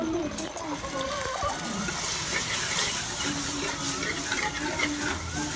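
Milk poured slowly into flour fried in a pan for a white sauce, a steady soft liquid rush with faint sizzling and stirring throughout, under a continuous kitchen hiss.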